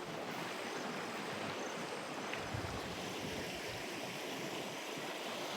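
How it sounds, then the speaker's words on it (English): Floodwater after heavy rain rushes through a village in a steady, continuous wash of noise, close and fairly loud throughout, with no voices. "Water is just full here."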